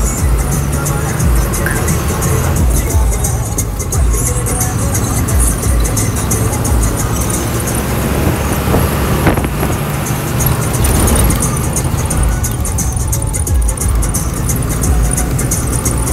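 A truck's engine rumbles steadily as it pulls away to get its tyres changed, a continuous mid-range drone with some rattle, fairly close and loud throughout.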